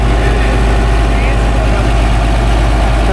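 A heavy diesel engine idles loudly and steadily up close on an International Harvester Dresser TD-25G bulldozer, its deep rumble continuous throughout.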